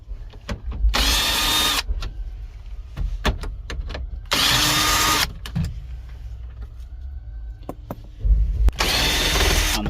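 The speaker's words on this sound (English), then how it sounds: "Now I'm just going to remove two 7mm bolts from right here." A power tool running in bursts while removing 7mm bolts from a Chevy Cobalt dash in a wrecking yard, three loud whirring runs separated by clicks, clunks and handling noise close up.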